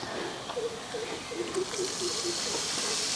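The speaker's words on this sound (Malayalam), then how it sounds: "നമ്മൾ ഇതുപോലെ ഒരു കപ്പ് വിനാഗിരി കൂടെ ചേർക്കുകയാണ്" Vinegar is poured into a hot pan while making gooseberry pickle, giving a steady, fairly quiet hiss and sizzle that lasts throughout with faint bubbling.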